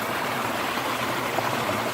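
Small mountain stream in North Carolina running over hard slate rock, a steady close rushing and splashing of water with no voices.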